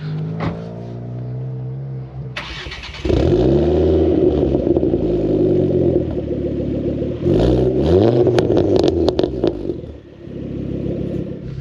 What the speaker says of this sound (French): on se retrouve tout de suite pour le petit démarrage de la Ford et pour l'essai routier